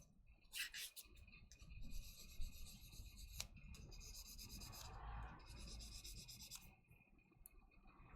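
A pen nib being sanded on 1200 grit sandpaper: quiet, close rasping strokes in uneven bursts, a soft scratchy rubbing that stops and starts.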